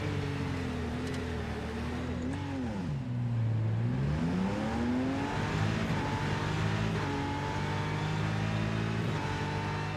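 A race car engine in the VR racing game Rennsport revs and sweeps up and down in pitch, a loud continuous whine that dips low, then climbs and holds steady.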